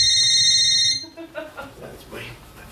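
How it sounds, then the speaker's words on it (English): A mobile phone rings with a steady, loud electronic tone for about a second before cutting off, and a voice begins talking right after. "That's my phone."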